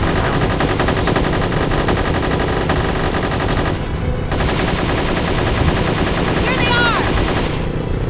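Rapid sustained automatic gunfire in the action video game Unearthed: Trail of Ibn Battuta, dense and loud throughout, with a brief lull midway and a high whistling effect near the end.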